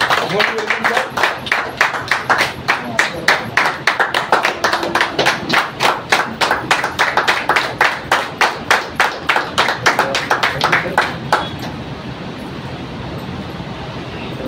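At a DXN gathering, a crowd welcomes a speaker with loud, rhythmic unison clapping, sharp regular beats repeating for about eleven seconds before dying away into softer room noise.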